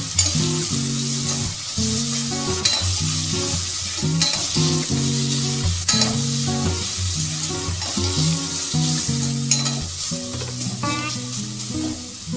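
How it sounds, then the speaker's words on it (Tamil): Ground pepper, cumin and garlic paste sizzle steadily in hot oil in a pan, with repeated stirring scrapes and clatters over a continuous close frying hiss, no talking. "இதுல நாம அரைச்சி வச்சிருந்த மிளகு, சீரகம், பூண்டு கலவையை சேர்த்து 10 to 20 செகண்டுக்கு வதக்கிக்கலாங்க."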